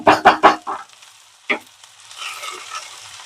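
Okra fries in a kadai as it is stirred, with several sharp scraping stir strokes close up at the start, another a moment later, then a soft sizzle that carries on quietly.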